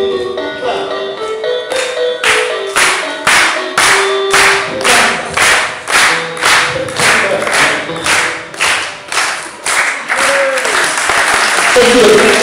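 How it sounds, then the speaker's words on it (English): An audience claps in a steady rhythmic beat, loud and close, with voices carrying over the clapping. "Can you clap?"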